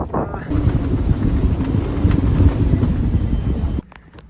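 Strong wind of about 35 knots buffets the microphone aboard a boat at La Maddalena, a loud rumbling roar lasting several seconds before cutting off abruptly near the end.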